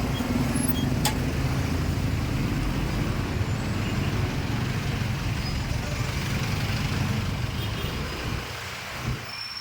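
Steady, dense road traffic at night, a continuous low rumble of passing cars and engines that stays loud throughout and eases slightly near the end.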